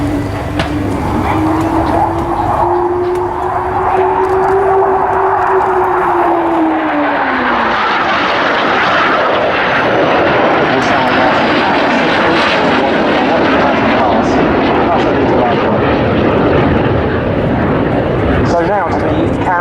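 An English Electric Canberra PR9 jet roars past at RAF Waddington, its engine whine sliding downward in pitch as it passes, then a broad, loud rumble lingers as it recedes.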